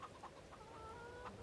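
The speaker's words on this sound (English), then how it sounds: "Ah, the chickens have reproduced." Chickens in Farming Simulator 2022 give short, soft clucks in a few scattered bursts, quiet and with no one speaking.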